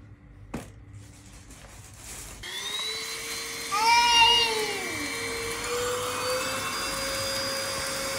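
Household vacuum cleaner running steadily at close range, with a rising whine as the motor starts, alone and without talk.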